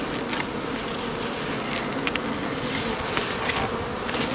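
Honeybees from a newly formed swarm buzz steadily around a beehive, a dense continuous drone close by with occasional individual bees passing nearer.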